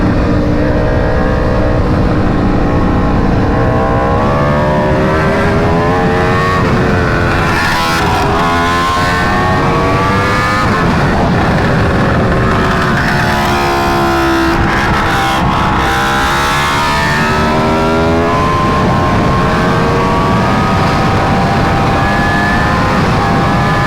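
Aprilia RSV4 sportbike engine roaring loud and close while being ridden, with rising and falling revs through gear changes and a steady wind-blown rush throughout.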